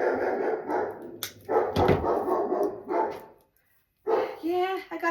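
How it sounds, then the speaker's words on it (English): A big dog barks in a few loud, close bursts, heard alongside people talking nearby. "Yeah, I got a big dog."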